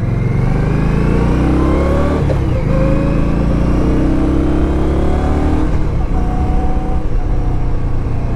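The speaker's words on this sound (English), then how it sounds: "I don't think this bike sounds as mean as the other ones" A 2016 Indian Scout Sixty motorcycle engine running on the road, a loud, close, continuous drone with rising and falling pitch as it accelerates and shifts, with wind rush throughout.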